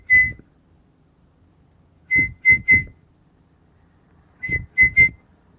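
A person whistles in short, clear bursts, one single note followed after pauses by two quick groups of three rising-and-falling tones, close and alone against near silence.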